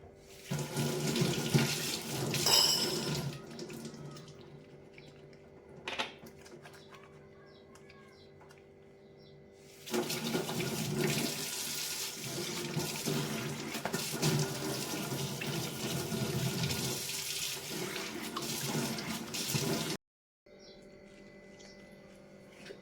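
Tap water runs steadily into a sink in bursts, with brief pauses and clinks of dishes being washed nearby; no one speaks.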